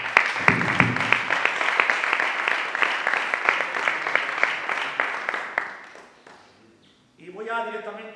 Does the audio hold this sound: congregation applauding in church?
yes